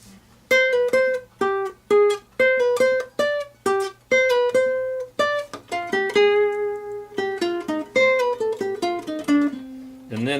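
A fugue theme is played alone as a single melodic line in a low voice, in clear, separate, plucked or struck notes. A steady rhythm runs through it, and a few sustained notes come toward the end.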